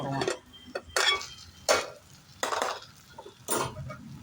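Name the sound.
lid placed on a cooking pot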